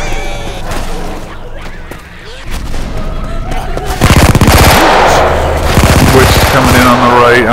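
Rapid machine gun fire in the zombie shooter Left 4 Dead, with dense gunfire bursts swelling loud over the second half amid game noise and players talking.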